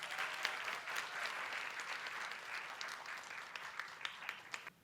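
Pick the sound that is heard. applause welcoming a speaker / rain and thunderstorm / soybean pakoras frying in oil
applause welcoming a speaker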